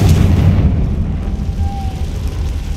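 A Confringo fire spell bursts in Hogwarts Legacy, a heavy low rumbling boom that stays loud and dense throughout with a faint whistling tone partway through.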